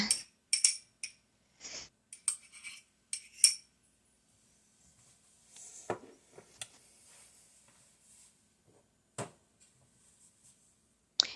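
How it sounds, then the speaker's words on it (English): A spoon scrapes the last bits of ground turkey stew out of a pot, making faint, sparse metallic clinks and short scrapes separated by silences. "now I'm going to take that spoon and scrape all of that out that I can get"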